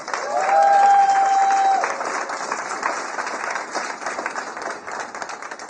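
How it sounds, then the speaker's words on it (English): An audience applauds for event partners, with a steady wash of clapping and a brief tonal whistle-like sound early on, continuing evenly at moderate volume. "So round of applause for our partners"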